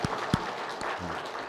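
Steady, fairly soft clapping from a church congregation, a continuous patter with a few sharper claps standing out.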